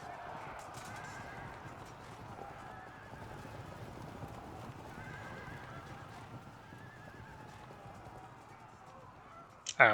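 Horses in the video game Field of Glory II keep up a continuous thunder of galloping hooves with neighs mixed in, closing on a sudden louder clatter.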